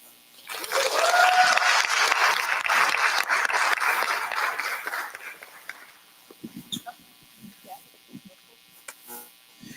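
A conference audience at RIDE CON 2024 applauds for the speaker Marlon, a dense burst of clapping that swells quickly, holds for about five seconds, then thins to a few scattered claps and quiet voices.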